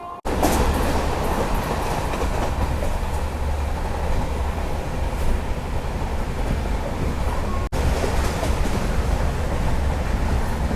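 Murdeshwar–Hyderabad Express train running near the coast in Karnataka, a steady loud rumble and rattle of rolling carriages throughout, with one brief sharp break in the noise partway through.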